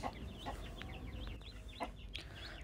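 Several chickens, a hen and rooster with newly hatched chicks, cluck and cheep softly in the background over a low, steady hum, with chicks peeping high and fast.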